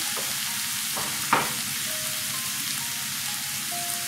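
Ground spices sizzle and fry in a pan as they are stirred, a steady soft crackle with a few scraping strokes of a spoon, no voices.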